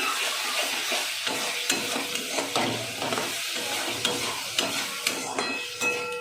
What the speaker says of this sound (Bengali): পেঁয়াজটা আমার প্রায় ভাজা ভাজা হয়েই এসছে দেখুন